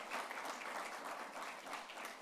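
An audience at a budget impact analysis event claps for the chapter chairman, a steady full round of applause, soft and somewhat distant, with no voices.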